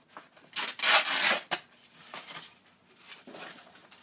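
A wood bowl spins on a lathe while 800 grit sandpaper is pressed against it, giving soft, raspy rubbing strokes, with a louder sustained pass at first and then quieter, intermittent sanding nearby.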